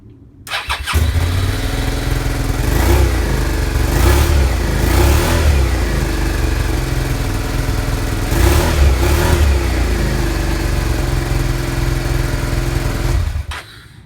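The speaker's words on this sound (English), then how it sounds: "Let's do a bit of a noise test. So, this is with the original can, not the one that it came with, but the original SV can." A Suzuki SV650 motorcycle with a new CDI and its original SV exhaust can starts up and idles loudly up close, with two pairs of sharp throttle revs before it shuts off.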